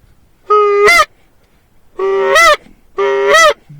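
Three loud, close goose honks in separate bursts, each a brassy call that bends upward at the end, with quiet gaps between them during a late-season goose hunt.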